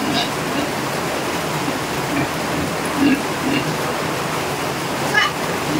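Heavy rain pours steadily as floodwater covers the ground in front of a house in the Philippine provinces, a dense, unbroken hiss of falling and rushing water, with faint voices now and then.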